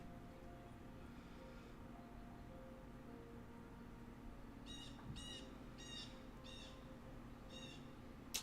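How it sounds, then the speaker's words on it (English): Faint, odd bird calls come from outdoors in a quiet backdrop, a short run of about six rasping, harmonic squawks spaced roughly half a second apart, heard alone over a low steady hum. "Some weird-ass bird noises outside."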